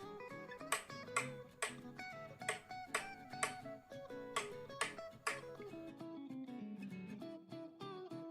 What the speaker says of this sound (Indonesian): Bunyi pendek, seperti bunyi kentongan.